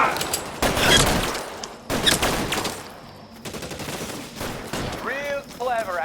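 Gunfire exchanged in the video game L.A. Noire, a dense burst of shots and rattling fire in an enclosed standoff, running through most of the stretch alongside shouting voices, with loud cracks recurring across it.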